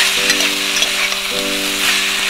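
Mixed vegetables with fried eggplant and a fish head sizzle loudly in a pan while being stirred, a close, steady frying hiss with scraping of the spoon and no speech.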